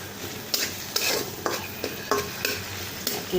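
Chopped onion with ginger and garlic frying in a pan, a steady sizzle broken by repeated scrapes of a spoon stirring roughly every half second.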